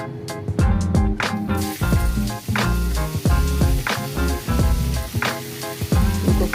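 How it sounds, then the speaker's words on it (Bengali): Cauliflower fries with turmeric and salt in hot oil, giving a loud, continuous sizzle broken by repeated sharp clatters of stirring throughout. "এখন ফুলকপিটাকে হলুদ লবণ দিয়ে আগে ভেজে নেব।"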